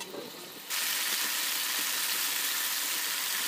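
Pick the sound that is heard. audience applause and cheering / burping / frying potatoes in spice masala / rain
frying potatoes in spice masala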